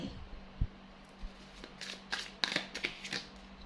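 Tarot cards are shuffled and drawn in a quiet room, with a few soft taps and then a cluster of crisp riffling bursts near the end, close and fairly faint.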